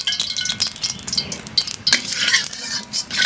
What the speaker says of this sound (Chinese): 铁锅烧肉，下油炒